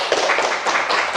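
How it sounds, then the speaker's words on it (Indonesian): Students in a classroom clap for a classmate, a brief burst of dense, steady hand clapping close by with no voices over it. "Silakan berikan tepuk tangannya untuk teman kita."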